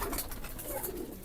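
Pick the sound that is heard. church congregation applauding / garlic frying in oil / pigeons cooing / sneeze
pigeons cooing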